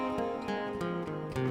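Electric lead guitar running a quick scale pattern, a steady stream of evenly picked notes without pauses, close and fairly quiet, alone.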